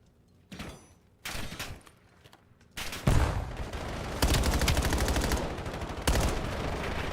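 Gunfire in a competitive Call of Duty match comes in sharp, loud bursts and sustained automatic volleys, growing denser after a couple of sparse opening shots.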